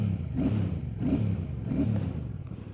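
Royal Enfield Classic 650 motorcycle engine revving in three repeated blips, each rising and falling in pitch, close and moderately loud with no talk.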